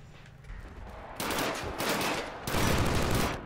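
Bursts of automatic gunfire fill a Killzone Shadow Fall multiplayer match in the Factory warzone, growing louder in two sustained volleys after a quieter start, with no talking.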